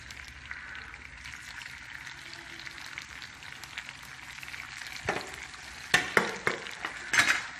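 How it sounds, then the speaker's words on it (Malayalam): Bitter gourd fries in hot oil in a pan with a steady crackling sizzle, later joined by louder spitting pops and a few utensil clinks. "നല്ലോണം ചൂടായി വന്നിട്ടുണ്ട് അപ്പോൾ നമുക്കിത് പൊരിച്ചെടുക്കാം"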